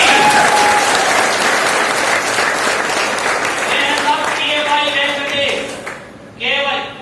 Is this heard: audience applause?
yes